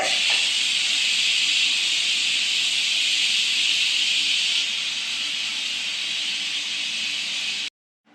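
A pressure cooker cooking beef lets out a loud, steady steam whistle, a continuous close hiss lasting several seconds before cutting off abruptly, with no one speaking.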